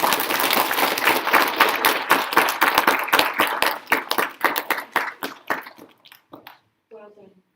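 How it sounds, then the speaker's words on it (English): Applause at a school prize-giving: a room full of clapping hands rings out loud and dense, then thins and tapers off over several seconds into scattered claps, with a brief voice after it ends. "We can still give her a good round of applause."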